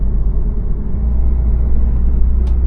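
Low, steady rumble of an Opel Insignia 1.6 CDTI Grand Sport diesel driving along forest roads, heard from inside the cabin as a loud continuous drone with no talking.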